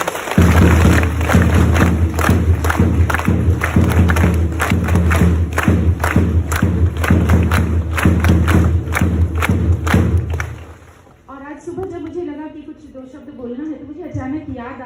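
Loud, dense applause and cheering from a crowd of students at a school event, with heavy thumping claps sustained for about ten seconds before dropping away as a voice starts speaking.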